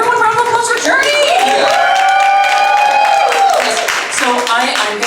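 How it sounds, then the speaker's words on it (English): Audience at a drag comedy roast show giving a round of applause, clapping and cheering running throughout while musical tones and voices sound over it. "Everyone round of applause for Journey."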